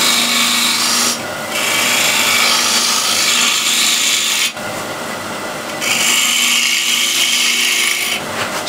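A spindle gouge cuts into a wooden bowl spinning on a lathe, producing a loud, steady rasping shear broken by two short pauses between passes.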